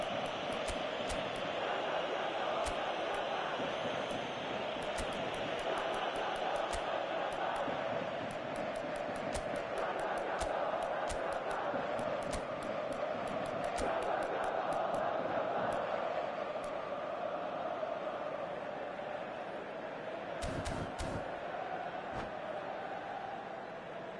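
A stadium crowd roars steadily throughout an eFootball video game match, a dense, continuous wash of cheering and chanting with occasional sharp clicks and a brief louder burst near the end, and no voices speaking over it.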